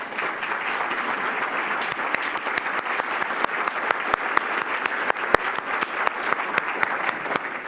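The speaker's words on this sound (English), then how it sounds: "can you stand up so we can give you a round of applause?" Sustained audience applause at a Columbus Metropolitan Club event, a dense even wash of many hands clapping with a few sharper individual claps standing out, moderately distant and without talk.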